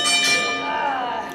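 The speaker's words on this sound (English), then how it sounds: "Bell sounds." A ringing bell opens a women's championship wrestling match with one loud, sustained metallic clang that holds and slowly decays, with a commentator talking over it.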